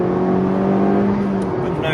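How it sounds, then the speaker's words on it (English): A 2015 Honda Civic Type R pulls hard in third gear on a twisting road, its engine a steady, rising drone heard from inside the cabin throughout, with someone talking over it. "If we drop it down a gear into third, coming up to a twist just here, get on the power really early."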